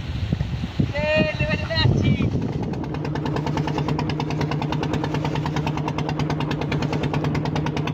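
A motor boat engine idles and chugs steadily on the Matla River at low tide during net fishing, a close continuous drone after a brief burst of voices and splashy noise at the start.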